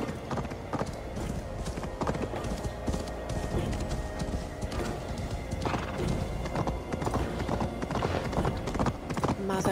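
Horse hooves clip-clop in a steady rhythm while a horse neighs, close and clear, with the busy, layered mix of Assassin's Creed Valhalla game audio.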